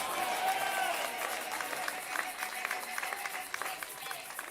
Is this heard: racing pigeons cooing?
no